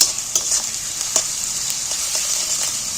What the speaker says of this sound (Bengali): পেঁয়াজটা ভেজে নিন